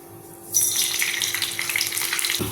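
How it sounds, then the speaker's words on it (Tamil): Mustard seeds and fenugreek dropped into hot coconut oil burst into a close, steady crackling sizzle after a brief quiet start, with a faint low hum beneath and no voices. "2 கரண்டி எண்ணெய் ஊற்றிக்குவோம். தேங்காய் எண்ணெய், கடுகும் வெந்தயம் கொஞ்சம் போட்டுக்குவோம்."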